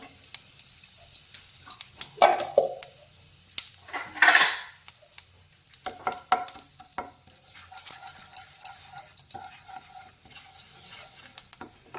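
Cumin and asafoetida hit hot oil for palak paneer in two loud, short bursts of sizzling, then settle into a low crackle with scattered utensil clinks against the pan. No voices.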